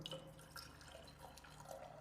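Water pours steadily into a container holding ice for a dry ice experiment, a continuous close splashing trickle with faint dripping that lasts about two seconds, with no talking.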